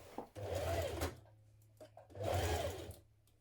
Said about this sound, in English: we're going to stitch it in place. Then you can go over it again 6mm away from that, just to give it some extra strength